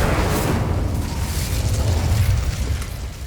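Bombarda, Confringo and Incendio spell explosions in the Hogwarts Legacy video game, a loud sustained rumbling boom with crackling bursts that rolls on for several seconds.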